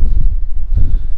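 Gusts of wind buffet the microphone behind a tractor on a farm, giving a loud, low rumbling roar in two swells over about a second, with no voices.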